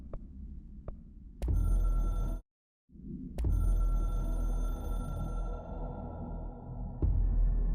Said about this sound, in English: I can hear the hotline ringing in my dreams, constantly ringing.